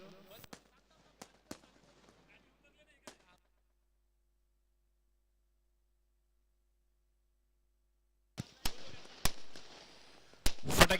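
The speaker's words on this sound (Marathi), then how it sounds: "फटाक्यांची आतिषबाजी," Firecrackers and fireworks at a residents' premier league cricket opening ceremony crack out in sharp, irregular bangs, a few early then a dense cluster after a long silent gap, with some speech near the start.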